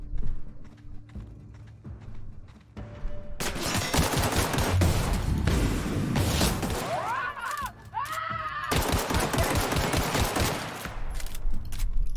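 Gunfire in The Outer Worlds: bursts of rapid automatic shots and layered impacts dominate the middle of the clip, loud and dense, with quieter mechanical game sounds before and a whining tone mid-way.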